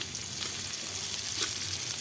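Steady crackling sizzle of oil in a pan, reused after frying tilapia, a continuous close hiss with small pops and no talk.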